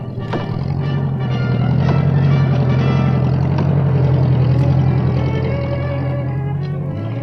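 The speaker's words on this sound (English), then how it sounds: "they used their tractor to drag the logs from the forest swiftly" A tractor engine drags logs out of a forest, a loud steady drone that runs throughout without speech, with tonal harmonics and a slight rise in pitch partway through.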